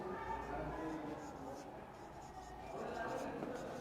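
Pen or marker strokes writing out a math expression during a class nine algebra lesson, a steady scratchy scribble that runs continuously at close range.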